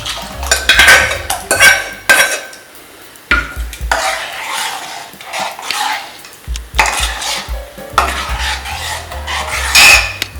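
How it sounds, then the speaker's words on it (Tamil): Ragi flour batter is poured into cooked broken rice in a pot and stirred with a metal spoon, giving loud scraping and clinking strokes in uneven bursts with short pauses. "இப்போது நம்ம இந்த கரைச்சி வச்ச கேழ்வரகு மாவை எடுத்து இதில் ஊற்றிடலாம்."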